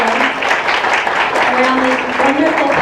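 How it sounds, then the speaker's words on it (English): An audience at an Arts Collaborative choral event gives a sustained round of applause, a steady wash of clapping while a voice speaks over it. "Let's give her another round of applause"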